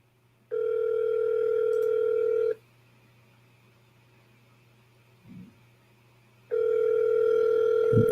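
Telephone ringing tone on a call line: one long steady electronic ring of about two seconds, a quiet pause of about four seconds, then a second ring starting, with no voices.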